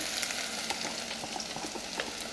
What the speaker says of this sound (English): You want to start by browning your onions. So you're gonna literally sit over the stove and turn until it caramelizes